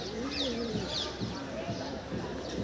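Pigeons at a pigeon loft coo in soft, repeated low calls, with a few higher chirps mixed in and people talking nearby over them.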